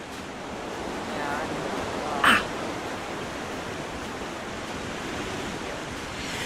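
A waterfall in The Long Dark's Pleasant Valley roars as a steady, dense rush of water, close and constant, with one brief brighter sound cutting through partway.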